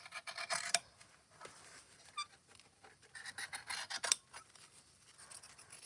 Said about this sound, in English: I'm going to trim the corner and trim off my excess.